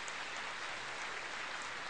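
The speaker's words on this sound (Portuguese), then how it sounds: "Eu quero até um aplauso para ele." Audience applause at a gathering, a steady wash of clapping held at an even, moderate level for the whole stretch, with no voices standing out above it.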